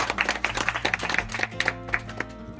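Audience applause at a birthday surprise on a TV show, a smaller group clapping in a loose, uneven rhythm over a low musical hum, moderately quiet and close.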